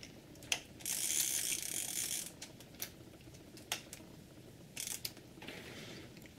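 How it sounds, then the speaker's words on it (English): Vintage camera being wound, its advance mechanism giving quiet, close ratcheting clicks in short bursts with pauses between. "So we can now wind the camera."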